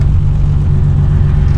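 A BMW with a low-compression M20B25 engine drives down the street under normal, unhurried throttle, giving a steady, close, loud low engine rumble that holds even throughout with no voices.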